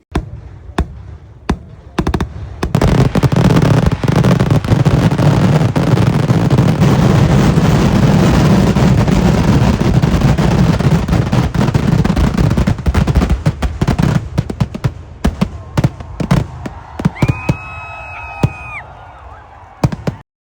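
Rapid bursts of firecrackers and fireworks at the Kulangara Pooram temple festival in the evening crackle and pop densely for a long stretch, loud and close, thinning into scattered bangs toward the end.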